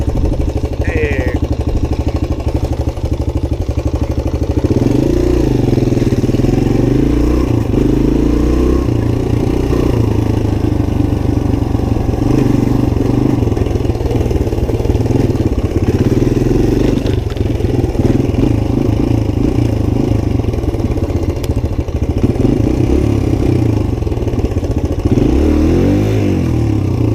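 A Suzuki DR-Z 125 pit bike engine runs loud and close throughout, revving and rising and falling in pitch over constant wind and mechanical clatter, with no talking.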